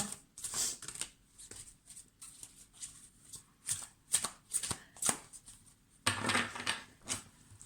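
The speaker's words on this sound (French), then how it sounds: "pendant que je mélange les cartes." Tarot cards are shuffled by hand in a series of quick riffling bursts and soft slaps, close and fairly quiet, with brief pauses between shuffles and a longer riffle near the end.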